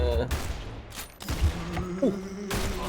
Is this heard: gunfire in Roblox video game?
yes